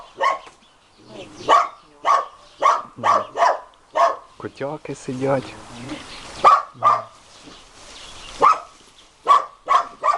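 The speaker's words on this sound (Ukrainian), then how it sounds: "собачка гавкає" A small dog barks repeatedly outdoors, sharp single barks in an uneven rhythm at moderate distance, while someone talks briefly between them.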